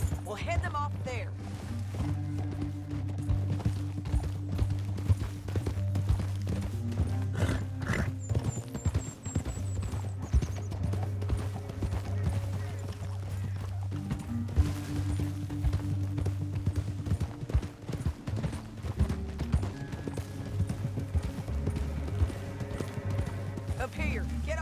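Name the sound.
horses galloping in the video game Red Dead Redemption II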